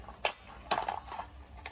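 Scissors snip into a thin aluminium drinks can: a few short, sharp metallic crunches and clicks, close and quiet, separated by brief pauses.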